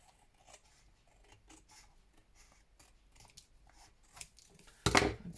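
Scissors snip and trim in small, faint, irregular cuts close by, ending in one louder crisp snip.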